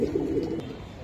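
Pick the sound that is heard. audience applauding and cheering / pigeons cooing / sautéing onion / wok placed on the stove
pigeons cooing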